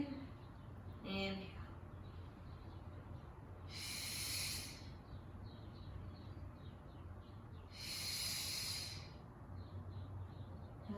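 Two long, deep breaths during a yoga flow, each a breathy hiss lasting about a second and evenly spaced several seconds apart, close and soft against a quiet background, with a brief faint sound early on.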